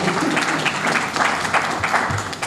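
Steady, dense applause from a sizable audience, a continuous wash of clapping filling the whole stretch at fairly high volume.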